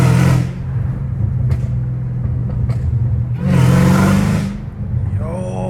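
A straight-piped Dodge Hellcat Redeye engine pulls hard in two loud surges, a deep rumbling roar with a brief drop between them as it shifts, heard from inside the car.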